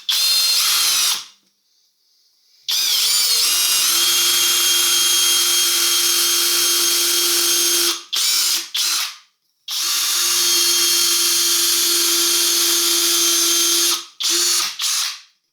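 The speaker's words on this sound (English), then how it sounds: "I will drill a few holes." A budget cordless drill bores several holes, each a loud high-pitched whirring run of several seconds, separated by short pauses and brief bursts as the bit starts and stops close by.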